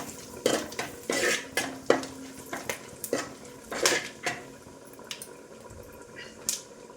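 Whole black pepper, cinnamon, cardamom and star anise stirred in a hot pan for fried rice, a utensil giving close, irregular metallic clinks and scrapes against the pan, with no talking.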